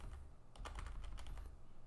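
Computer keyboard keys click in a quick, quiet flurry of typing while a file is edited, close and soft with a brief pause partway.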